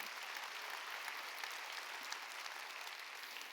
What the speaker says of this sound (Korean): 깨달은 사람만 박수 치세요.